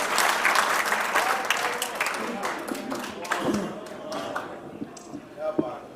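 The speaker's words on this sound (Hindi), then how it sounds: "जोरदार तालियों से इस्तकबाल करें जनाब स्वयं श्रीवास्तव" Applause from a mushaira audience at a medical college, loud and dense at first with scattered claps thinning out over several seconds, overlapping with voices and talk.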